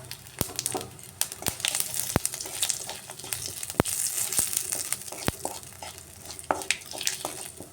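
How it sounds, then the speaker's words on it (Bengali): Steady crackling sizzle of cumin, a dried red chilli and bay leaves frying in hot oil left from frying potatoes, punctuated by sharp pops and spatters, with no talking. "এই আলু ভাজা তেলের মধ্যে আমি ফুরন দিয়ে দিচ্ছি জিরা"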